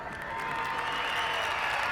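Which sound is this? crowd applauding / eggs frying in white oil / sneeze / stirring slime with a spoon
crowd applauding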